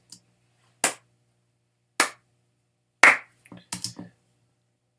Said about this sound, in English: I'm going to record some claps